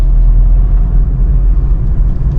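Car engine holding a steady low rumble while driving in second gear, loud and continuous with no talking over it.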